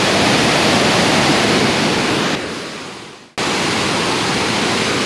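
Bald River Falls near Tellico Plains, Tennessee roars as a loud, steady broadband rush of falling water, dipping briefly before surging back at full strength.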